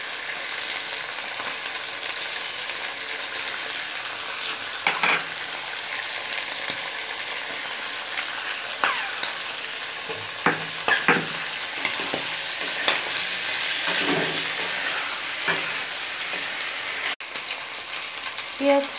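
Chopped onion, already softened, and green peas are stirred in a frying pan. A continuous loud sizzle is broken by repeated spatula scrapes and taps at an uneven rhythm, with no voices.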